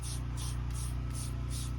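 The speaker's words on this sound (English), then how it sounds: "And you want to also spray behind here too as well." A trigger bottle sprays cleaner into a car cup holder in five quick, evenly spaced hissing bursts over a steady low background hum.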